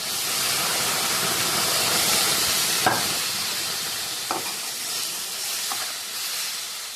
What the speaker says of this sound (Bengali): এবারে দেব গরম জল ঢেলে।